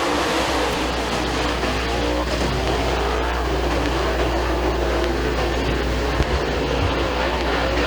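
Race cars at Thunder Mountain Speedway roar as a heat race gets underway, a loud continuous engine drone with a steady low rumble, a commentator's voice partly mixed in.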